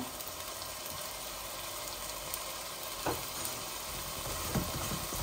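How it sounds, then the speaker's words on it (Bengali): Steady, soft sizzling of chicken spices frying in a pan, a continuous crackling hiss with a couple of faint clinks, no voices. "এই যে চিকেনের মশলাগুলা ভাজা ভাজা হচ্ছে"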